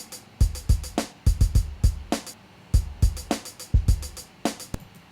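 A MIDI drum beat plays back in Soundtrap: crisp kick and snare hits with bright hi-hat ticks in a steady, straight, evenly quantized pattern, clear and alone.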